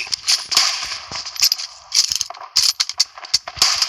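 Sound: Kar98 rifle reloading in video game PUBG Mobile Lite

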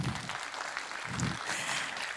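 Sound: audience applause

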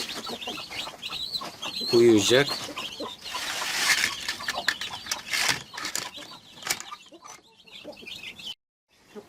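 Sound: guinea fowl chicks

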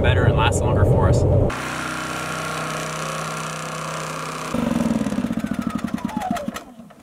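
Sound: generator running at an off-grid cabin

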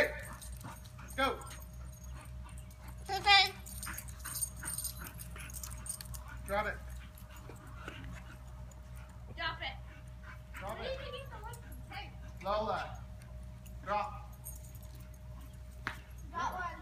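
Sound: dogs barking and whining outdoors

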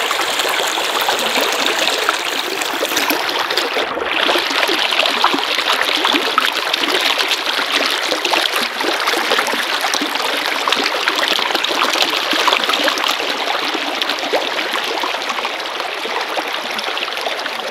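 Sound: water trickling over rocks

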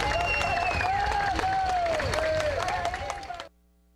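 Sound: crowd applauding at funeral procession

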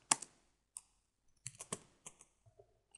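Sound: typing on a computer keyboard

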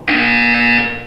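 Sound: buzzer in Portal 2 video game

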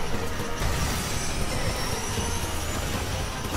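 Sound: train passing in a racing video game

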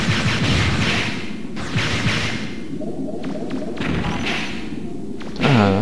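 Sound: explosion in video game Megaman Legends 2

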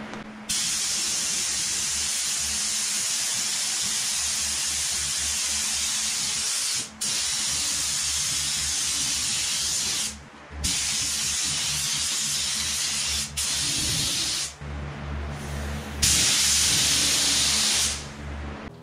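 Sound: spray gun painting clear coat on car body panels

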